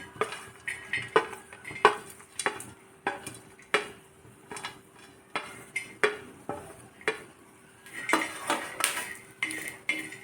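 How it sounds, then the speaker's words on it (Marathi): A utensil repeatedly scrapes and clinks against a pan while grated coconut is roasted and stirred over low heat, a steady series of sharp metallic taps and scrapes, close and clear. "यामध्ये आता आपल्याला घालायचं आहे खोबरं आणि खोबरंही छान आपल्याला भाजून घ्यायचं आहे"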